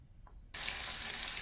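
Water poured from a tap or jug into a potato pickle-style curry cooking with achar spices; after a quiet start, a steady, loud rushing pour begins abruptly halfway through and continues without a break, with no talking.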